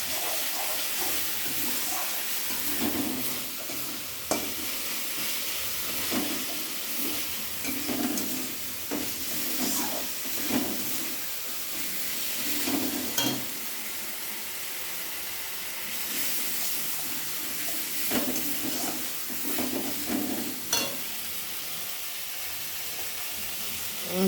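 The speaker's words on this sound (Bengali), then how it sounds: "মশলাটা কষা হচ্ছে বন্ধুরা।" Spice paste for prawn curry sautés in a pan with a steady, close sizzle, broken by recurring scraping stirs at an even, unhurried rhythm.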